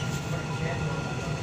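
An airport rail train carrying passengers, heard from inside the carriage as a steady low rumble and hum with no breaks.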